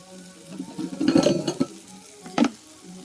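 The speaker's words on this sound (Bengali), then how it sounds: "এইভাবে কড়াই নেড়ে নিয়ে তারপরে চিংড়ি মাছটাকে ভাতে দিয়ে" Prawns stirred in a hot wok: a quiet sizzle with a burst of scraping and clattering around the middle and another sharp scrape near the end, close and with no voices.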